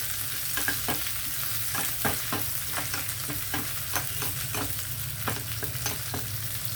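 Coriander leaves and curry leaves frying in oil in a pan for a tempering to pour over a ridge gourd and chana dal curry, with a steady close sizzle broken by repeated sharp crackles and spatters, no voices.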